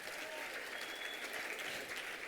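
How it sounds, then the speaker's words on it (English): Audience applause at a realtor association conference in Palm Springs, a fairly quiet, even patter of clapping from a crowd that continues briefly without a break. "give her another round of applause"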